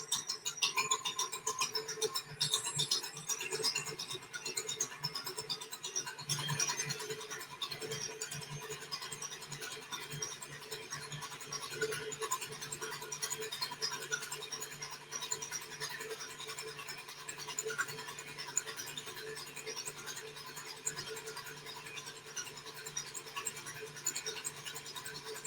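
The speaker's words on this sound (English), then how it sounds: "So give me 1 sec while we just whisk this together." A mixture whisked together by hand in a bowl, a steady faint scratchy scraping that runs continuously and evenly throughout with no talk over it.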